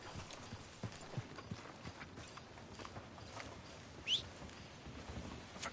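Horse hooves clip-clop at a walking pace in Red Dead Redemption 2, a soft, fairly distant, regular stream of light hoofbeats with one brief brighter clink partway through.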